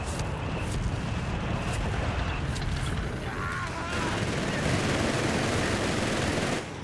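A .30 cal machine gun in Company of Heroes 3 rattles in steady, dense bursts, mixed into a constant loud wash of battlefield gunfire and explosions with no pause throughout.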